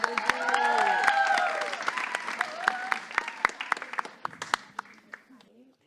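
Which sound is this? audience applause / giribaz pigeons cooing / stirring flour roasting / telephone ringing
audience applause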